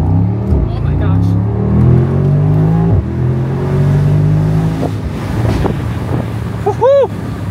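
A Mercedes SL63 AMG's 4-liter V8 rumbles steadily with wind rushing past, then the engine note dips and a short chirping whine comes near the end; a voice speaks over part of it.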